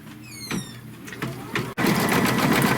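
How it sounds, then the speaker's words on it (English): An embroidery machine stitches a brown palm tree trunk, starting with whirring, squealing motor bursts and then settling into a loud, steady mechanical run. "now it's going to stitch the palm tree trunk"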